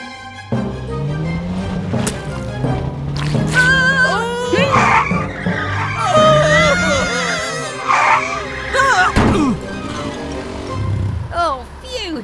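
A cartoon car speeds out of control with its accelerator stuck down by bubble gum. Tyres squeal and skid again and again while an engine whines, and animated voices talk and exclaim throughout.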